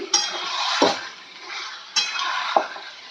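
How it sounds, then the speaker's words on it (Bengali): Marinated mutton stirred in a pan with onion, ginger and garlic: two bursts of scraping and a mild sizzle, each closed by a clink of the spoon against the pot. "মাংসটা একটু আমি নাড়াচাড়া করে নিচ্ছি"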